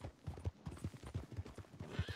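A miniature horse in Red Dead Redemption 2 neighs while its small hooves clip-clop in a quick, steady rhythm throughout, fairly close and clear with no talk over it.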